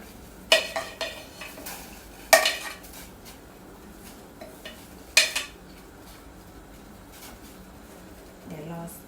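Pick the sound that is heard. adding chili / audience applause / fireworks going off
adding chili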